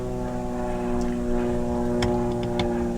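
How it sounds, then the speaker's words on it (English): Propeller airplane droning overhead, a steady tonal hum that builds a little and holds, with faint clicks and small noises scattered over it and no speech. "just let that plane go over"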